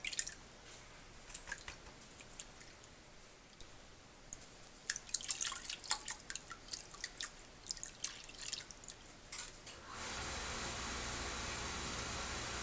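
Water drips and splashes in a gold pan in a series of faint, irregular close drops, followed by a steady background hum as a furnace kicks on.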